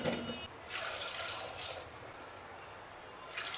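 Water pours into a pot of about twenty whole washed small potatoes for pressure cooking, heard as a few short splashing bursts with quieter gaps between.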